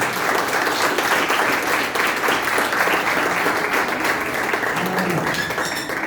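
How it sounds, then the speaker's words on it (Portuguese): A church congregation applauds Jesus during a worship service, with loud sustained clapping throughout and a few scattered taps and thumps. "se você puder aplaudir Jesus bem lindo"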